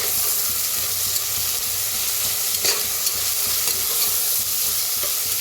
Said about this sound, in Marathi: आता ह्याच्यातच टाकूया आपण अद्रक लसूण चेचून घेतले होते, हिरवी मिरची लसूण.